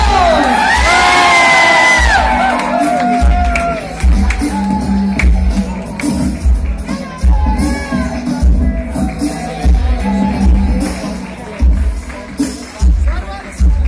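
A loud crowd in a polytechnic auditorium whoops and cheers with excited shouts at a winner announcement, the noise swelling at first and then settling into scattered cheering and clapping with music underneath.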